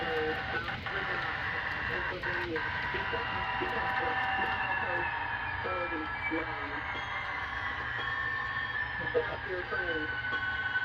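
A small HO-scale model train rumbles steadily along its track with a continuous mechanical whir, while someone talks over it throughout.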